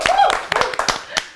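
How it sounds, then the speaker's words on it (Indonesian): A few people clap on a talk show set, sparse separate claps in an uneven rhythm close by, with a brief voice at the start. "Minta tepuk tangannya."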